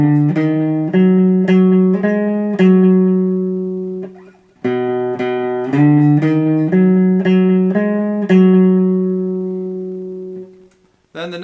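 One full measure of a song on guitar, a series of plucked notes and strums ringing over about eleven seconds with two brief pauses, loud and close, no voices.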